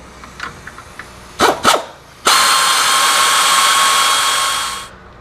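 Bolts on an ATV's rear brake caliper are backed out with a 15mm socket: a few light clicks and two short mechanical bursts, then a steady, loud whirring drive lasting about two and a half seconds before cutting off.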